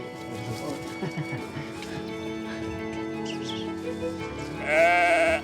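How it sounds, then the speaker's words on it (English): Newborn lambs bleat close by in a High Atlas farm setting, several wavering cries overlapping, with one louder, sharper bleat near the end over faint background murmur. "These lambs were born in the night."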